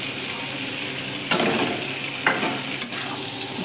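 Spice paste stir-fried in a pan for chilli prawns, a steady sizzle broken by three short bursts of spatula scraping.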